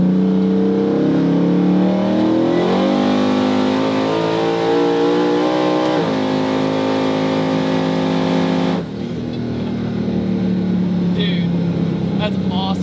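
A 1200-horsepower twin-turbo LS-swapped Cadillac Escalade engine revs loudly, climbing in pitch through several sweeps before dropping back to a rumbling idle, with people talking over it.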